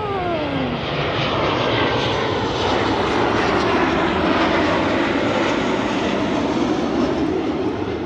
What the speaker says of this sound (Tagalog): Maingay talaga aeroplano.